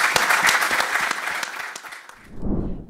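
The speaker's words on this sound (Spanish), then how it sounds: "lo despedimos con un fuerte aplauso," An audience at an agtech event applauds strongly, dense clapping that fills the room for about two seconds and then breaks off, followed by a low rumble and a brief murmur.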